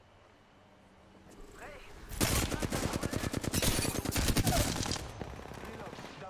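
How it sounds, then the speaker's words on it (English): Rapid automatic gunfire in Apex Legends erupts for about three seconds, a loud rattling burst of evenly spaced shots, with a brief spoken word beforehand. "Getting shot at."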